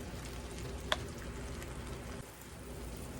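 Breaded eggplant frying in oil, a faint steady crackle and sizzle with one brief sharp pop early on, no voices.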